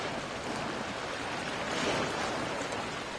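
River water flowing in the VR horror game Immortal Legacy, a steady broadband rush and wash without pauses, fairly close and even in loudness throughout.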